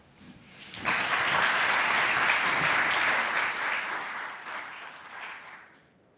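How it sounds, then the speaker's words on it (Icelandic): An audience at a regional municipalities seminar gives a speaker a warm round of applause. The dense clapping starts abruptly, holds steady for several seconds, then thins and fades. "Gefa honum gott klapp."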